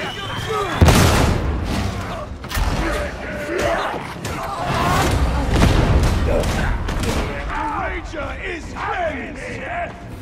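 Grenade explosions rock a battle in the video game Warhammer 40,000: Darktide, with several heavy booming thuds spread across the fight under near-constant shouting voices and gunfire clutter.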